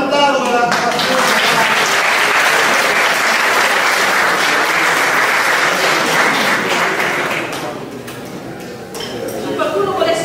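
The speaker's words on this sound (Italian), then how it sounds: "Facciamo un applauso alla" An audience at a shoemaking talk gives loud, sustained applause, dense clapping that fills most of the stretch before thinning out and tapering toward the end, with a few scattered claps rising again at the close.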